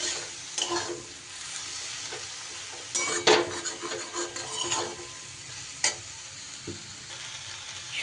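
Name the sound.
stirring vegetables with turmeric and chilli in a frying pan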